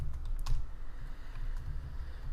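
Fingers tap quickly on a computer keyboard while JavaScript code is typed, a close, steady patter of light clicks with a few sharper keystrokes near the start.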